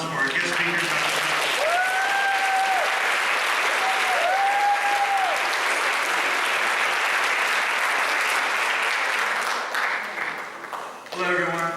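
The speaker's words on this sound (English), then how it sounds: "please join me in giving a warm round of applause for our guest speaker" A graduation-ceremony audience at an adult education event claps warmly for a guest speaker. The applause is thick and sustained for about ten seconds, tapers near the end, and a short tonal sound rises through it midway.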